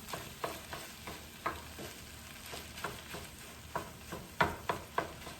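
Shrimp fried rice with egg, peppers and onions frying in a pan, a soft continuous sizzle broken by a string of spatula scrapes and taps that grow briefly louder near the end, with no talking.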